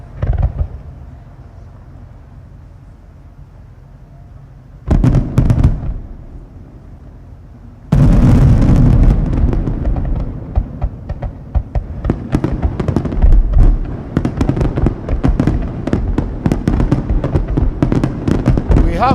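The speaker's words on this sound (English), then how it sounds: "we have fireworks outside" Fireworks explode outside during an annual summit, first as a muffled burst of sharp cracks, then as a long, loud barrage of rapid bangs and pops that keeps going to the end.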